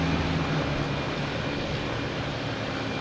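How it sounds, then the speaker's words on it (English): Lufthansa Boeing 747 taxiing out at Boston Logan Airport, a steady low jet-engine rumble and broad roar holding at a constant level throughout, no voices. "We have Lufthansa 747 heading back out, getting in the conga."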